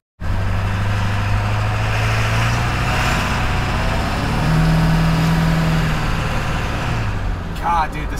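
A Ford 7.3 engine in a large pickup truck runs with a steady, loud low rumble and drone, close by and continuous, with a faint higher whine near the end.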